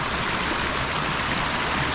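River water flows close by, a dense, constant rushing and burbling that fills the short stretch evenly, with no speech over it.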